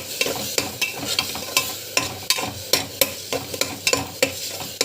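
Potatoes, peas and other vegetables fry with chili powder in a pan, a spatula scraping and stirring in a quick, regular rhythm over a continuous sizzle, close and fairly loud.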